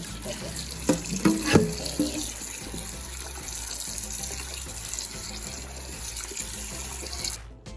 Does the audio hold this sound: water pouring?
yes